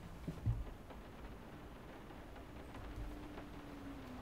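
Steady rain hissing in the background at low volume in the video game Layers of Fear, with a couple of soft thumps near the start and a faint low rumble running throughout.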